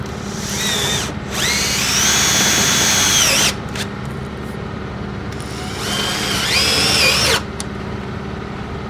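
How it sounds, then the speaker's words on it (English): Close and loud, a power drill drives screws into the edge of a door panel on a VW Crafter / MAN TGE motorhome. There are two sustained whirring runs, each rising in pitch as the screw goes in, with a short pause between them. "I'm just going to put 2 screws just in the edge here"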